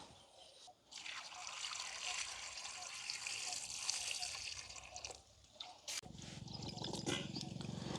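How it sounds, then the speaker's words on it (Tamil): Gooseberries are washed by hand in water in a home kitchen, giving close splashing, sloshing and trickling sounds that come in uneven bursts, with brief pauses between handfuls. "நெல்லிக்காயை முதல் நாங்கள் கழுவி எடுக்க போகிறோம்"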